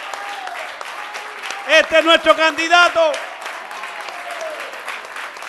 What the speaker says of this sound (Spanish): A ver, un aplauso más fuerte,